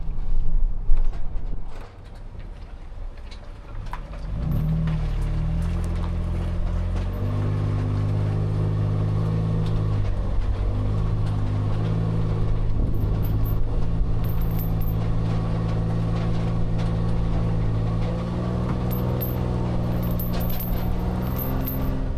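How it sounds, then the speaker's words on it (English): A 2025 Toyota Tundra TRD Rally climbs a steep 12-degree road while towing, its engine a steady, loud low drone that holds evenly under load for the whole stretch after a brief rougher start. "So we're now gonna drive up a road that is a 12-degree slope, pretty steep."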